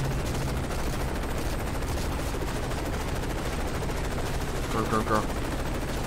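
Continuous rapid gunfire fills a Call of Duty Modern Warfare 3 battle, a steady, dense barrage heard throughout, with a voice briefly shouting over it near the end.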